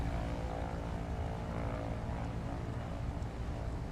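A propeller-driven light aircraft on its takeoff roll in Microsoft Flight Simulator during an eSTOL short-takeoff competition, with a steady loud engine drone filling the whole stretch and no voices.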